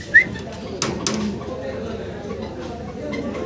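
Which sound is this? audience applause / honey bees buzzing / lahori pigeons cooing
lahori pigeons cooing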